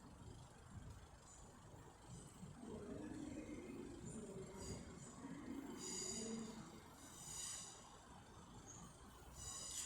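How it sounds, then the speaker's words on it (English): A Northern Class 323 electric train from Manchester Piccadilly passes a station at Stoke-on-Trent on the West Coast Main Line as a faint, distant rumble that swells and eases, with light wheel squeal near the end. "the next train to round the bend will be a Northern Class 323 from Manchester Piccadilly"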